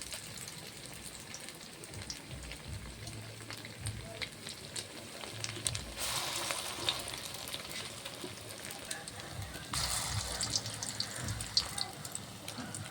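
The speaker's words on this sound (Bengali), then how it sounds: "আমার বড়া দিতে দিতেই তো 2-3টা ভাজা হয়ে গেল" Banana flower lentil fritters frying in hot oil, a soft steady sizzle with crackling surges and brief louder bursts as more batter goes into the pan, with a few faint background sounds.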